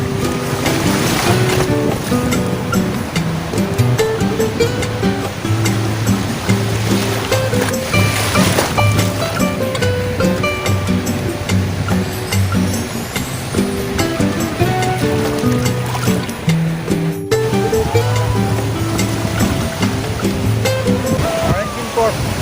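Sea waves wash steadily onto a beach in West Bengal, a continuous broad surf roar filling the whole stretch, with music or voices faintly mixed underneath.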